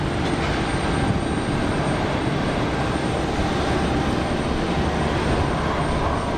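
A Pegasus Airlines Neo airliner taxiing at Geneva Airport, a loud, steady, broadband engine roar and rumble that holds constant throughout, heard alone without talking.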